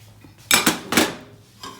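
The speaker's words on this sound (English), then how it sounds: "now I'm going to turn this omelet out onto the plate" A spatula scrapes and clinks against a pan and plate as a goat cheese and jam omelet is turned out, a few sharp close metallic knocks in quick succession.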